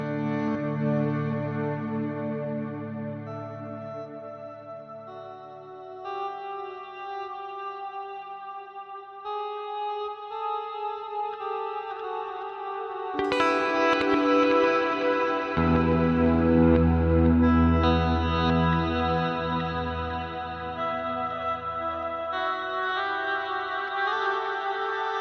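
Synth or instrument tones run through the DelayJaVu delay effect by Rob Jackson with added reverb, sustained chords smearing into lush echoing repeats that swell and fade, with a fuller, louder passage midway and no talking.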